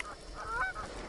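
Geese honk repeatedly from a distance, a cluster of faint, overlapping calls.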